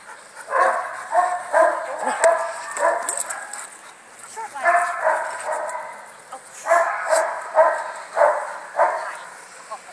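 Several dogs barking and yipping in quick playful bursts during play time, fairly close and lively, with short pauses between volleys.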